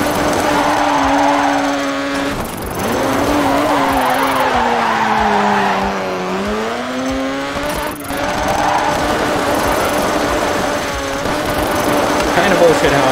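A rally car drifts through a corner in the Dirt 3 video game, its engine note climbing, dipping and recovering while tire squeal and skidding run loudly alongside it throughout.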